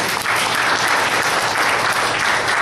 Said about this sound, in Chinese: 阿们，拍手上帝好不好？